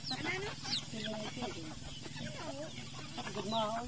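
Chickens clucking and squawking busily as they are fed in a rural province, a dense overlapping chorus of close, varied calls with people talking in the background.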